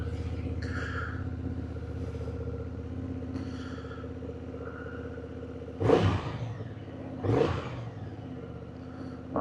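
A Honda Hornet 750 motorcycle engine, still a little cold, idles steadily nearby, with two sharp revs rising and falling partway through.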